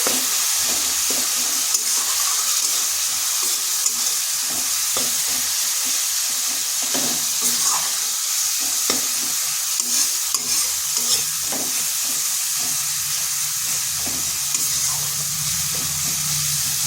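Spice paste with chilli powder and a splash of water sautéing in a pan, a steady close sizzle and hiss broken by repeated stirring scrapes, with no voices over it.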